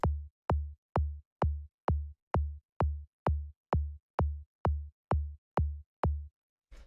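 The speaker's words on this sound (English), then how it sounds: "Next sound we have here is this little tom sound" A small tom drum sample repeats thirteen even hits at a steady, moderate pace, each a short, punchy, pitched thump with a quick decay, sounding alone and clear before a brief faint tail at the end.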